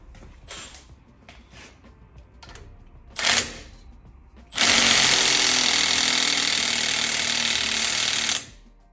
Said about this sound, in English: Now what you do is you tighten your bolt back up.